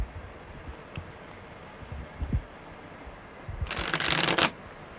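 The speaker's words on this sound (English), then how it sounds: "one more good shuffle" Tarot cards get one firm shuffle, a dense papery riffle bursting up near the end after quiet handling rustles, close to the microphone with no talking.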